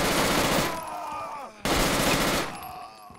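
Gunfire in the military shooter game Project Reality, a loud, dense burst of rapid shots for about a second and a half, a brief pause, then another sustained burst, all close and fierce with a faint voice underneath.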